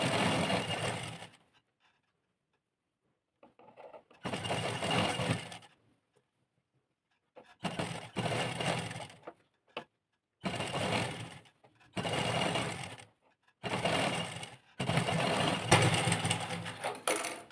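An electric sewing machine stitches a suit sleeve in repeated loud bursts of a few seconds each, whirring steadily and then stopping, with short quiet pauses between runs.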